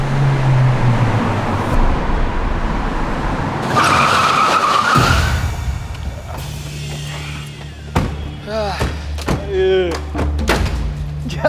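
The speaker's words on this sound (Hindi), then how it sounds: "इतनी तेज गड्डी चला के पता नहीं इन लोगों को कहाँ पहुँचना है एक दिन" A car speeds past on a road, its engine noise swelling into a loud, broadband whoosh midway, followed by rumbling traffic and people talking.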